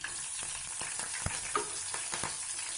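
Steady close-up sizzling of green chilies frying in hot oil, with small crackles and pops throughout and no voices.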